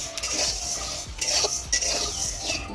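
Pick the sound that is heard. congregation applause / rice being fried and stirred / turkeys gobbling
rice being fried and stirred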